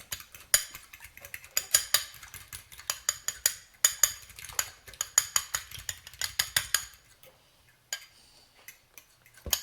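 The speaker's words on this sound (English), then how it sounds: "In a different bowl, you're going to beat your egg until a little fluffy." An egg beaten in a bowl with a fork or whisk, a fast, steady run of sharp clinking strokes against the bowl that stops near the end, followed by a couple of isolated taps.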